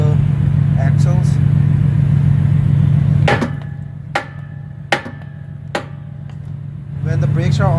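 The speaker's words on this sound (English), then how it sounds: "You have to hammer on the drum, not on the brake." A hammer strikes frozen truck brake drums on the axles: four sharp metallic clanks spaced about a second apart ring out close by, set between stretches of a steady idling engine rumble.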